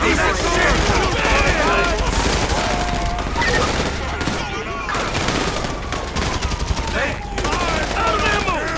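Loud, dense video-game gunfire, with rapid overlapping bursts and shots and a few pauses, mixed with shouting voices.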